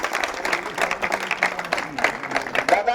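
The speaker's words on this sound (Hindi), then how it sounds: "आपसे अनुरोध है कि जोरदार तालियों से" Crowd applause at a political rally, a brief dense patter of many hands clapping with overlapping voices and cheering mixed in.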